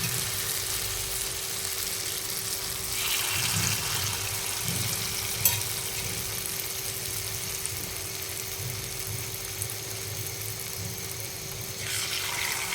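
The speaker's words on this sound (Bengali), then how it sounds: "এবার আমি এক এক করে সবগুলো পিঠা দিয়ে ভেজে নেব" Palm-fruit pitha frying in hot oil, a steady, even sizzle and bubbling hiss running throughout with a faint click midway and a brighter surge of sizzling near the end, with no talk.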